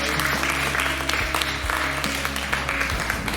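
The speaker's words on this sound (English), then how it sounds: "So a big round of applause for them for taking this time." Audience applause at a cricket league team launch event, a steady, dense wash of clapping that continues throughout, fairly loud and close, with no clear talk over it.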